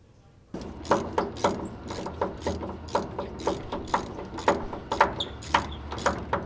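Rapid bursts of ratchet clicking ring out in repeated strokes as bolts are backed out of the bed of an LBZ Duramax truck, close and steady with no talk over it.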